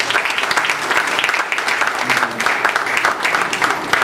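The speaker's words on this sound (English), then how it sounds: "Can we give Sister Cynthia McKinney one more round of applause, please?" Steady applause from a sizable crowd after a speech in Durham, North Carolina, loud and sustained throughout, a dense wash of clapping with no break.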